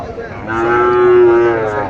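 A single cow gives one loud, drawn-out moo up close at a livestock market, rising and holding steady before trailing off.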